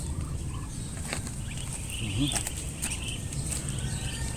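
Month-old ducklings on a duck farm call for food, a busy chorus of high peeping and chirps close by over a steady background hum.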